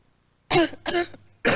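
Three rough, hacking coughs come in quick succession, close and loud, with short pauses between them.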